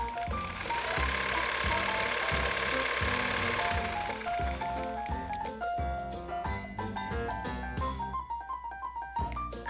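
A sewing machine stitches the outseam of small doll pants, running in steady rapid bursts with rhythmic mechanical chatter, close and clear, pausing and restarting a few times.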